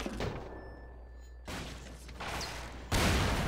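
Explosions in the video game Entropy Zero: a cluster of dull booms and crackling blasts, with a louder burst near the end.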